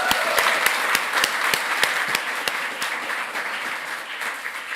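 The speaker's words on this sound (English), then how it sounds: "So one more applause for this." An audience claps for a film pitch, dense applause fairly loud and close, with a few sharp individual claps standing out in an even rhythm before it slowly thins toward the end.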